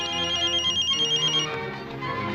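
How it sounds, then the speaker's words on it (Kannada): A mobile phone rings with a melodic electronic ringtone, a clear repeating tune that plays loudly for a couple of seconds before changing. "madam phone"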